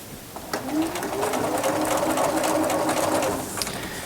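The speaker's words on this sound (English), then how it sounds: "Give your needle a chance to move itself around the zipper coils." A sewing machine stitches slowly over the zippers of a duffle bag, a steady close mechanical whirr that rises, holds for a few seconds and then eases off.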